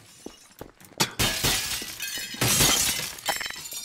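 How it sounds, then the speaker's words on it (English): Glass shattering in Garry's Mod Murder, a few small clinks followed by a burst of loud crashing breakage with scattered debris, heard alone. "Hearing glass break"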